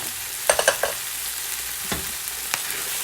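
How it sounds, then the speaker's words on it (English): Steady sizzling of leftover rice frying in a pan for fried rice, with a few louder crackles and stirring scrapes early on, no talking. "you hear that sizzle I have going on?"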